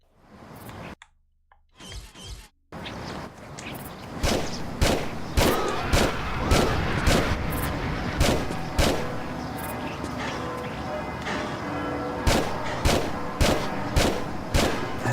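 Rapid bursts of gunfire from Tomb Raider: The Last Revelation, loud and close, with sharp repeated shots rattling off in quick clusters after a few brief isolated thumps at the start.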